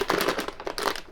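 A very crinkly plastic bag holding cables for a GAMEMAX RGB 1050W power supply is handled up close, giving a quick run of dense rustling crackles with no speech.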